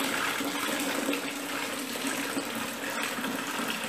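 Liquid pours steadily and loudly for several seconds as 11 litres go into a large batch of homemade perfumed soap made from used cooking oil, a continuous rushing splash with a brief knock near the end.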